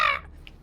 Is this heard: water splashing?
no